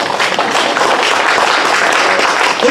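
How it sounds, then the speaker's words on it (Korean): An audience at an anniversary commemoration ceremony in Seattle claps steadily, a dense, loud wash of applause running throughout without a break. "박수 한번 쳐주세요."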